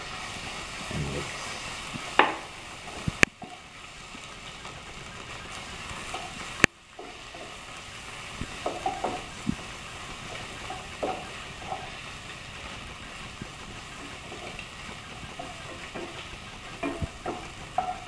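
Tomato puree is stirred into chicken macaroni in a pan, a low steady sizzle broken by scattered clicks and scrapes of the spoon against the pan, faint and close, with no voices.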